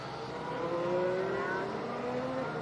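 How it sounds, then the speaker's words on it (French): Formula 1 car at the 2018 United States Grand Prix powering out of a corner, a rising engine whine climbing steadily in pitch over a constant track roar, fairly loud with no talk. "il réaccélère parfaitement bien, il est très bien placé là, Lewis Hamilton."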